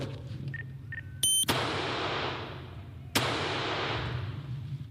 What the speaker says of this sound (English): Cops unloading a barrage of bullets from windows of empty classrooms at Sacred Heart School across the street battle the two suspects who had holed up inside the deli